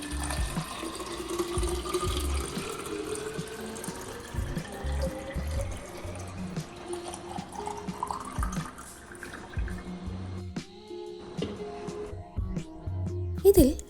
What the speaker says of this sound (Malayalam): ഇപ്പോൾ ഞാൻ ഈ ബോട്ടിലിൽ ഇങ്ങനെ വെള്ളം നിറച്ച് വെക്കും.